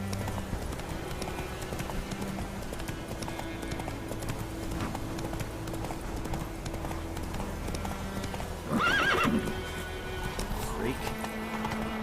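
Geralt's horse Roach gallops through The Witcher 3, steady hoofbeats drumming throughout under game music and voices, with a short loud neigh breaking in near the end.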